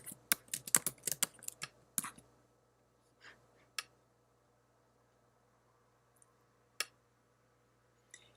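Fast bursts of keystrokes on a computer keyboard, close and crisp, then a few scattered isolated key presses separated by quiet pauses.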